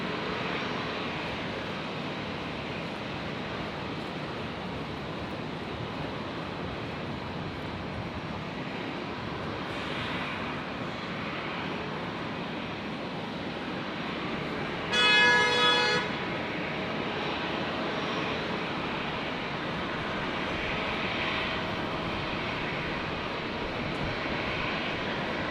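An airliner arriving at Brisbane airport from Port Moresby, a 32-year-old airframe, gives a steady broad engine roar that holds at a constant distance throughout, with a brief tonal blip partway through.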